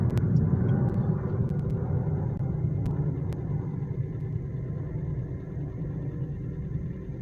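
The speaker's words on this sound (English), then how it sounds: "There goes the aeroplane." A deep, steady rumble of an airplane passing overhead fills the clip, slowly fading, with a few faint clicks near the start.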